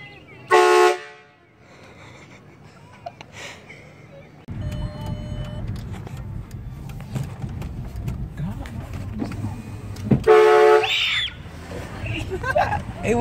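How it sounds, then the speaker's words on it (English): A car horn honks in two short bursts, a loud blast near the start and another around ten seconds in, with engine rumble and people talking in between. "Honk?"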